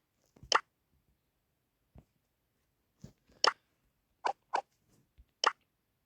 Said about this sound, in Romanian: Eu deschid ouă.